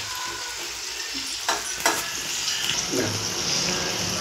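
Tomatoes fry in a hot pan with a steady, close sizzle and crackle, a few louder spits and stirring scrapes rising briefly, no voices heard.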